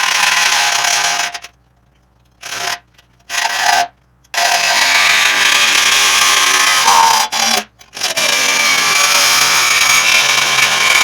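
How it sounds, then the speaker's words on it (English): Cutoff wheel grinding through the axle of an old Chevy truck during a solid-axle swap, a loud, steady abrasive rasp broken by several short pauses as the wheel lifts off the steel. "I like to use the cutoff wheel and just get a good start."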